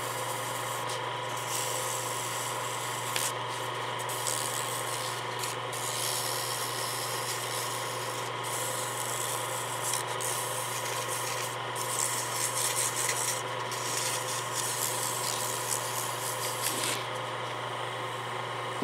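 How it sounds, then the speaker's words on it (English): Olive wood ring being buffed while spinning on a lathe, a steady motor hum with continuous soft rubbing and rasping friction, fairly quiet and even, with a few brief dips. "This is olive wood, so it will buff up really nice."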